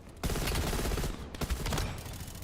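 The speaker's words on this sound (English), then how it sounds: "with the rapid fire attachment, you get your shots out a little bit faster" Rapid fire from an M16 rifle with a rapid fire attachment in Call of Duty Cold War, a dense, loud rattle of quick gunshots with a brief break partway through, close and unbroken by talk.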